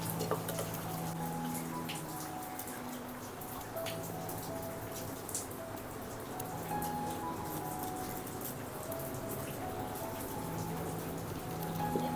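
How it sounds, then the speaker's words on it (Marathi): Heavy rain pours down at the seaside, a dense, steady patter with scattered sharper drops that continues evenly throughout. "मस्त पाऊस पडते"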